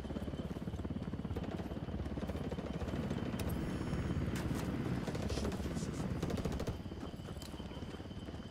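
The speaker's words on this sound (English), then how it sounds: "Get down, chopper!" Helicopter flying overhead in the Ghost Recon Wildlands video game, its rotor beating in a steady, rapid chop that stays loud and close throughout, with faint voices mixed in.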